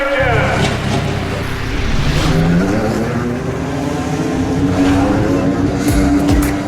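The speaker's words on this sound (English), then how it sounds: "Gentlemen, start your engine." Race car engines starting and revving at Indianapolis Motor Speedway, a loud, dense engine roar with rising and falling tones that keeps going throughout.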